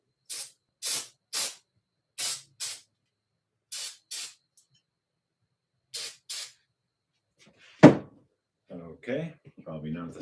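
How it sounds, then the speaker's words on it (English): Aerosol chemical cleaner sprayed from a can onto the sticky bearing race of a 1964 Schwinn Varsity bicycle, several short hissing bursts in an uneven rhythm, followed by a clunk and brief quiet talk. "let's spray it with something"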